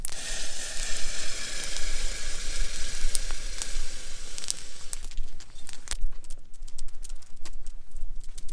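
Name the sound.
sausage sizzling on a bed of hot coals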